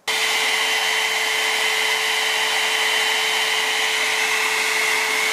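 A heat gun shrinks heat-shrink tubing over a glued electronics joint, giving a steady loud blowing roar with a faint constant tone. It starts abruptly and runs without a break, close by and with no talking.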